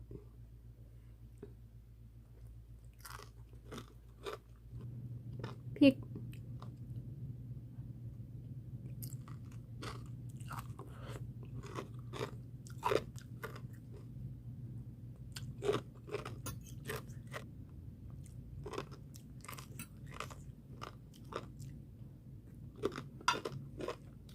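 Crisp, close chewing and crunching of spicy Thai som tam papaya salad, steady irregular bites in a quiet room with a low hum underneath, no talking.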